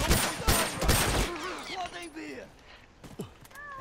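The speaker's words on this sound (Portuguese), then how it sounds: "Só deu um tiro pra te ajudar, Bubu." Rapid bursts of gunfire from a video game ring out loud and close at the start, then fade under game noise and other sounds.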